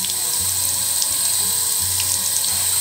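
Water runs steadily through a Berkey water filter until it comes out clear, a continuous loud splashing stream from a tap with a faint rhythmic mechanical ticking underneath and no talking.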